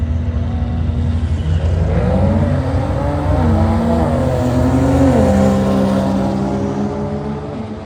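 A Volvo launches down a drag strip on a timed run, its engine roaring loud and close as it revs through rising pitch sweeps and gear changes, with steady road noise underneath throughout.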